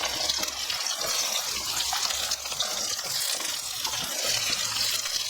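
Beans and carrots sizzle together in a pan for a vegetarian mixed-veg dish, giving a continuous loud hiss of frying with small crackles and stirring, no talking.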